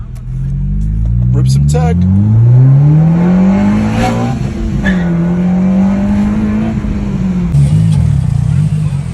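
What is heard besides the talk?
9th gen Honda Civic Si with Hybrid Racing kit driving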